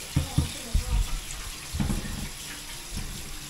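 Tap water runs steadily while chicken is washed for homemade fried chicken, with a few sharp knocks and splashes early on and a voice briefly talking nearby.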